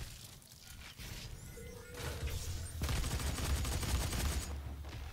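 Rapid gunfire from the Doom beta multiplayer game rattles on, rising from a moderate burst to a dense, sustained volley in the second half, with game noise throughout.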